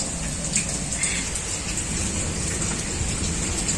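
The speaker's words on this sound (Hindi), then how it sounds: "ये बारिश बंद होने का नाम ही नहीं ले रही है।" Heavy rain pours steadily in Bareilly, India, a dense, even hiss of falling water close by, continuous with no voices.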